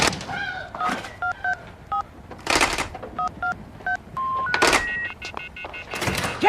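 A phone keypad is dialed to call emergency services: a rapid series of clear, evenly spaced DTMF tones, with a few brief knocks and rustles between them and no talk.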